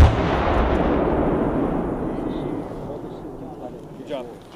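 A C4 explosive detonation at a military demolition training range, heard as a loud, deep blast rolling into a long rumble that fades over several seconds, with faint voices near the end.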